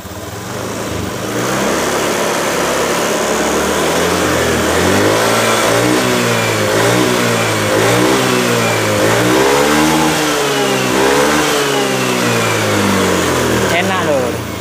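Honda Beat ESP motor scooter engine revving close by, the throttle blipped repeatedly so the pitch rises and falls in waves over a steady idle, with someone talking over it at times.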